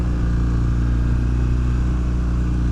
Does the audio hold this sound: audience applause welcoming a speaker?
no